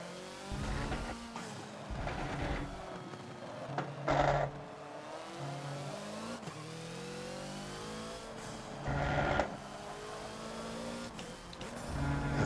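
Hoonigan Focus race car in the Forza video game, revving hard with sharp bursts of engine noise and downshifts under late braking, with brief tire squeal against a steady engine drone.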